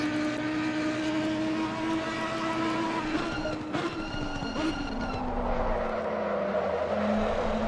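A race car engine droning steadily at high revs on the Imola circuit in a sim-racing event, its pitch sliding down as it slows, with faint clicks and other cars underneath.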